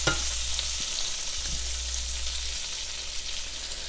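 A pork chop sears in a pan after being flipped, giving a steady, loud, close sizzle with a bright crackling hiss that runs the whole time over a low constant hum, with a couple of soft clicks near the start.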